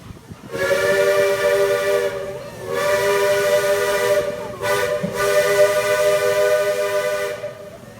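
A loud, sustained steam whistle from the Walt Disney World Railroad train blows in long blasts with brief breaks, over a steady hiss of steam, close and dominant throughout.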